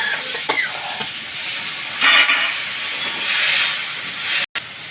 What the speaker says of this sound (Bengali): একটু হলুদের গুঁড়ো দিয়ে আর একটু নুন দেব, দিয়ে এতে একটু জল দিয়ে কষবো